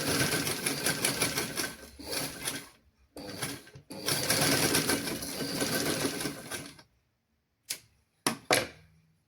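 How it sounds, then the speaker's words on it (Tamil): Sewing machine stitching fabric for a children's garment, running in several close, loud bursts with short pauses between them and brief clicks near the end. "இனி நாங்கள் வந்து இந்த ஓப்பன் பகுதியை நாங்கள் இனி தைக்கணும்."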